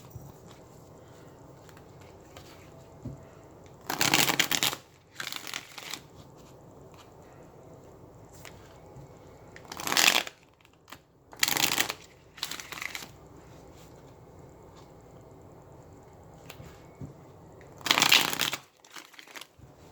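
Tarot cards are shuffled in several short, crisp riffling bursts spread apart by quiet pauses, close to the listener with no talking.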